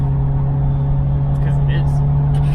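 Inside a Chevrolet Equinox driving in traffic in third gear, a steady low engine drone hums loudly throughout, with faint road noise.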